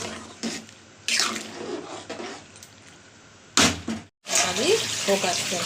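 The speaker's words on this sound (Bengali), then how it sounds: "এবার জল দিয়ে দিই" Water poured into a cooking pan of potatoes for ghugni, heard as sudden splashy bursts with hissing sizzle between them, plus a brief pause, with some background voice.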